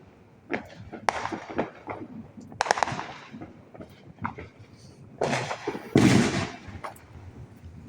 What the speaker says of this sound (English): I don't see fireworks on this side, but there's some behind me.